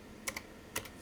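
A few crisp keystrokes on a computer keyboard while loading a VGA BIOS file on an old ABIT VP6 PC: two quick pairs of clicks, close and quiet, with no talk.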